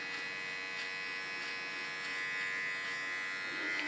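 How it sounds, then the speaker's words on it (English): A small electric hair clipper hums with a steady, high, fairly faint buzz through a haircut at a salon, unbroken throughout. "Yeah, we have a small clipper."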